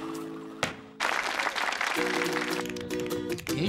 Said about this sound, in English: Roobarb returned the applause to his fans.